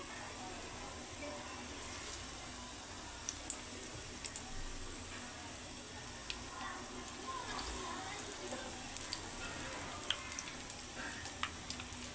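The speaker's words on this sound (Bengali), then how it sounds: "তেলটা গরম হয়ে গেলে তেলের ভিতরে চপগুলো ছেড়ে দেব।" Breaded chicken liver chops fry in hot oil, giving a steady, dense sizzle with scattered crackles and pops that runs close and even throughout.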